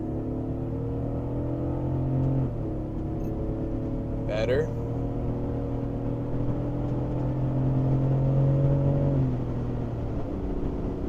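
A BMW on the highway pulls hard to high RPM, its engine droning with rising harmonics and a gear shift midway. Someone speaks briefly over the engine.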